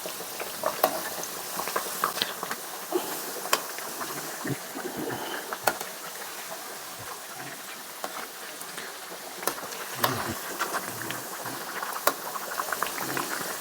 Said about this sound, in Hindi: इसी तरह से पलट के आप अच्छे से फ्राई कर लें।